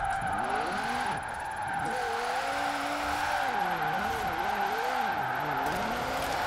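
Formula Drift RTR Mustang in Forza Horizon 4, its engine droning loud and close while the pitch wavers up and down through a long drift, with a constant whine riding above.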